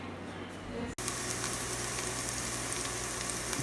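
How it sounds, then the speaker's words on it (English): Steady, dense sizzling of onion frying in a pan, starting abruptly after a brief quieter moment and continuing evenly, close by. "So now we're just frying up the onion a little bit."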